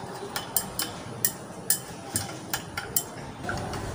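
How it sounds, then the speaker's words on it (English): A sodium carbonate sample is stirred to dissolve in a lab vessel, with a series of light, sharp clinks from a rod tapping glass at a quick, uneven rhythm over a faint background. "Then you stir to ensure that it dissolves properly"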